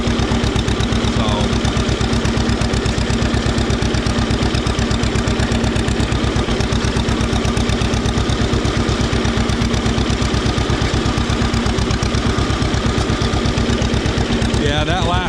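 A 1944 John Deere A tractor engine runs close and loud, its steady, rapid pulsing beat holding without a break from start to finish.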